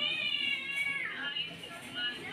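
A cat meows in a drawn-out, rising and falling call over about a second, near and clear, while people chatter in the background.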